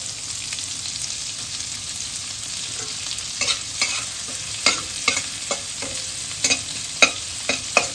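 Spring onion greens fry in hot oil with lightly browned garlic, giving a steady close sizzle. A utensil stirs in the pan, with sharp scraping clicks scattered through, and no one speaks.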